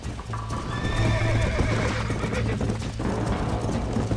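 Galloping horse in the Red Dead Redemption video game, with steady hoofbeats and repeated whinnies and neighs over a dense, loud mix of game sound lasting throughout.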